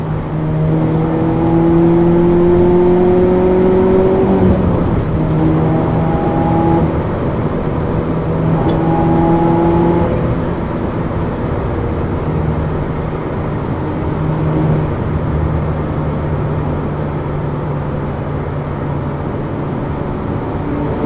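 A Mini Nowack N260S drives fast on a German autobahn, its engine droning loud and close inside the cabin with a rising pitch that drops at gear changes, over a steady road and wind roar.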